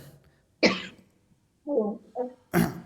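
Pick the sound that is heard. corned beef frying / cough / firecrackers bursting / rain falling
cough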